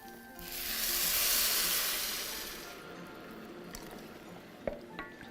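Boiling water pours into a pan with a loud hissing, sizzling rush that swells and then fades, followed by a couple of light clinks.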